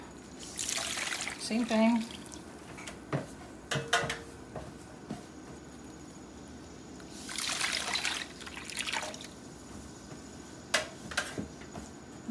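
Dye water trickles and splashes as it is poured over yarn, coming in quiet bursts of a few seconds with pauses between them, while a voice speaks briefly nearby.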